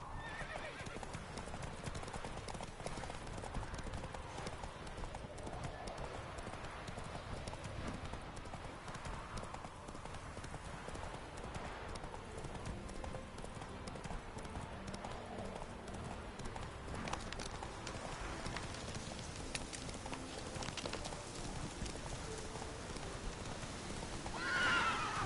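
Roach, the horse in The Witcher 3 video game, gallops with fast, steady hoofbeat clip-clops throughout, ending with a sharp neigh. Nobody speaks.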